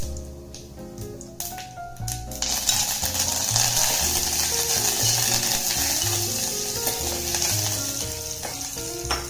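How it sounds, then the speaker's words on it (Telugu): Seasoning of dried red chillies and spices frying in hot oil in a pan for majjiga pulusu, a loud steady sizzle with stirring scrapes and clinks of the spoon against the pan, no voices. "ఇవన్నీ బాగా వేగిన తర్వాత కరివేపాకు వేసుకోవాలి."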